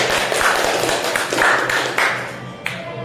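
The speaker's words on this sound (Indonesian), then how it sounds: "Tepuk tangan dong untuk Rizwan." Elementary school classroom clapping, a burst of children's hands clapping together in a room, moderately loud and close, with a few sharper claps standing out before it fades near the end.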